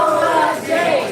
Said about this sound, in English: Cheer them out.